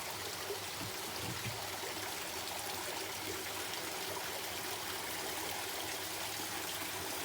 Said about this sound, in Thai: เสียงน้ำตก ไม่มีเสียงเพลงอะไรนะครับ พอดีมันอยู่ข้าง บ่อปลา